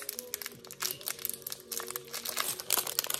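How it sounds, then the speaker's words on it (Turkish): A plastic bag is opened and crinkled during a toy unboxing. Dense, irregular crackling and rustling carries on throughout, close and fairly loud, with no talking. "Ne o poşeti açacağım ve kırmaya başlayacağım."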